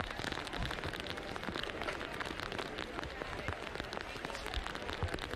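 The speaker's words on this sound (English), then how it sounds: "And wow, the rain now, I don't know if you can hear it, it is biblical." Heavy rain pouring down at a football match in Stockport, a dense steady hiss and patter of drops filling the whole clip, with faint crowd noise underneath.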